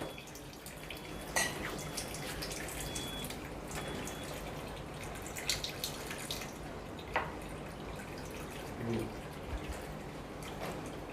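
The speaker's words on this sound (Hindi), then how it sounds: "देखिए कैंगन निकलना स्टार्ट हो गया है।" An Enagic Kangen water ionizer machine dispenses water into a glass as a steady, faint trickle and splash, with occasional soft clinks over low room noise.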